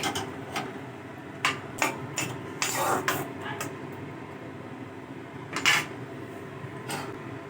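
A lid is set onto a cooking pot of sukta vegetables, giving several brief metallic clanks and taps at irregular intervals, close by, with faint kitchen background and soft talk around them.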